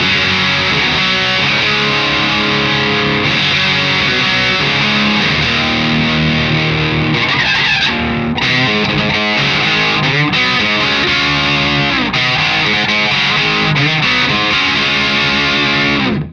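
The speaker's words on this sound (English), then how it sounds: "there are 2 clipping options here, diode or transistor, and what you just heard was diode" Heavily distorted electric guitar through a Marshall 1959 Modified amp head with a diode-clipping gain boost, playing chords and riffs continuously at a loud, saturated level for the whole stretch.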